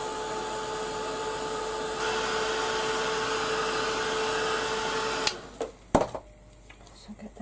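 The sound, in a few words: heat gun drying a colour wash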